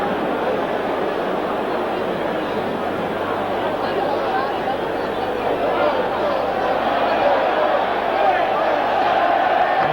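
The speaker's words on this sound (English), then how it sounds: "the Italian crowd are chanting "Olé,"" A dense stadium crowd at the Giuseppe Meazza during a European Cup semi-final roars in a continuous wash of massed voices, swelling slightly toward the end as chanting builds.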